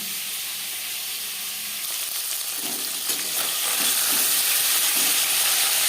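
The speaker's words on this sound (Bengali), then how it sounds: "একটা সাইড ভাজা হয়ে গেলে অপর সাইডটা উল্টে দেবো।" Steady sizzling hiss of rohu fish pieces frying in hot oil, continuous and close, with a few soft clinks and bubbling pops toward the end.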